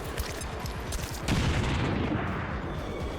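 A grenade explodes in the XCOM 2 video game, with a loud rumbling blast that swells midway and sustains amid dense crackling gunfire.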